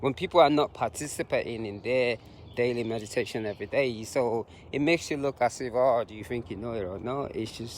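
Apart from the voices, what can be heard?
No distinct noise like a dog, phone or traffic.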